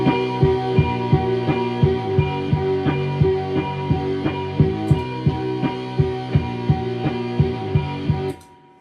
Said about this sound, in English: Put that part over the rhythm guitar and it'll sound like this.